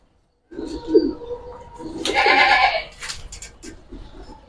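Green-necked pigeons at a seller's loft give short throaty coos and calls, close by, with a rustling burst of wing flutter in the middle and a few murmured voices in the background.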